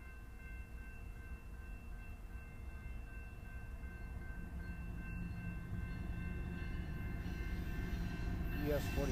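A BNSF freight train led by an AC44C4M locomotive approaches as a low rumble that builds steadily louder, with a steady tonal hum and a faint horn-like tone, and no talking.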